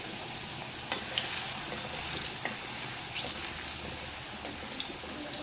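Raw banana slices deep frying in hot oil give a steady, close crackling bubble with occasional brighter pops and clicks, moderately quiet and continuous, without any speech.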